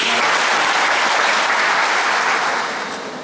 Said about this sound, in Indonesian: kita memberikan aplaus untuk itu.